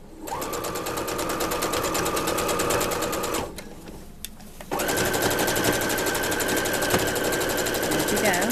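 A sewing machine top stitches a ruffle on a doll skirt, its rapid even whirring running in two bursts separated by a short pause, with a brief spoken phrase over it.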